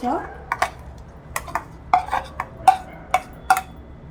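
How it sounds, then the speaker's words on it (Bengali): Fried onion, ginger, garlic and green chillies are dropped into a mixer jar, a series of sharp metallic clinks and taps from a spoon against steel, spaced irregularly and close by. "এবার এটা মিক্সি জারের মধ্যে দিয়ে দেবো"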